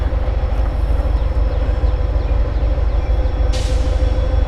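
Freight cars roll through a hump yard in a continuous heavy rumble, with faint squeals and a brief hiss of air near the end. An SD40-3 remote control locomotive is at work nearby.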